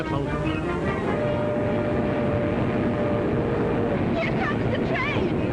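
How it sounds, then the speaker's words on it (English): A train pulling into a station in an old film scene, heard as a steady, loud rushing rumble with a thin sustained tone partway through and faint voices rising near the end. "Here comes the train."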